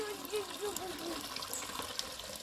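Water from soaked, pounded arrowroot is poured off, giving a steady trickling, splashing flow at moderate level that runs without a break and is heard alone.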